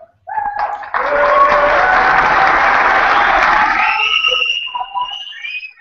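Audience at an event in Holland bursts into loud, sustained applause that swells after a brief opening clap and rolls on for several seconds, with a few whistles and cheers before fading.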